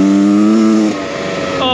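A 2023 Beta XTRAINER 300 two-stroke enduro motorcycle engine revs loudly up close, holding a high buzzing pitch, dropping off briefly, then climbing again, with no talk over it.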